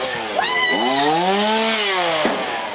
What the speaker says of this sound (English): those people choose to stand inches away from the chainsaw